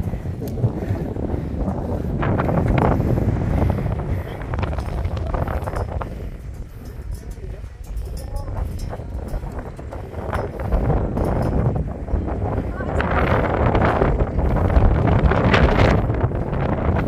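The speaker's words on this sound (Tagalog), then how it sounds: "Sarap ng hangin." Wind blows hard at Lambingan Hills in Tanay, Rizal, a loud rumbling roar buffeting the microphone in surging gusts, with people talking faintly underneath.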